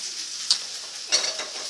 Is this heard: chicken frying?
yes